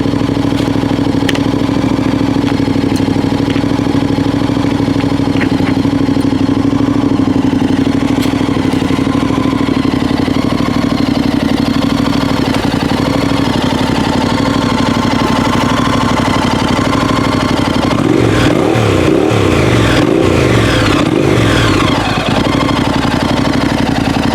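A Honda NC750X motorcycle fitted with a Delkevic aftermarket muffler idles close up with a steady, throaty rumble, then revs in a few sharp bursts before settling back to idle.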